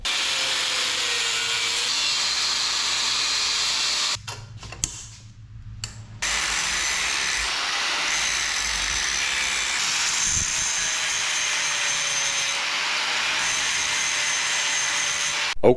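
Cutting out a cross member from a 1981 Honda CB650 motorcycle frame: a loud, harsh, continuous grinding hiss that stops once for about two seconds, then carries on steadily to the end.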